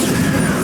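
Bombarda blasting spell cast in the Hogwarts Legacy video game, a short, dense burst of low rumble and crash that fills the whole moment without a break.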